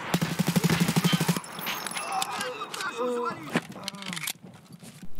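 Rapid gunshots in Escape from Tarkov as a scav is shot: a quick burst of close, loud shots at the start, followed by rattling gear and a voice.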